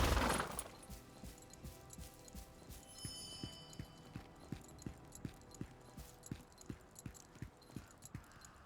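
Horse hooves clip-clop steadily in a video game, set in East Luterra, an even run of near, moderately loud hoofbeats under faint ambient game sound and a brief glassy shimmer.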